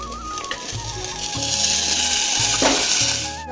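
Chopped vegetables hit a pan of fried onions, hissing and sizzling steadily as they are stirred, over faint background music with no voices.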